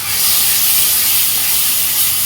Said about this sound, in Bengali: কাঁচা লঙ্কা আছে, একটা পেঁয়াজের টুকরো আছে, 2 কোয়া রসুন দিয়ে এটা আমি কষে নেব